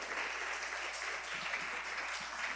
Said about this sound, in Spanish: Dale un aplauso a Dios por eso, ¿eh?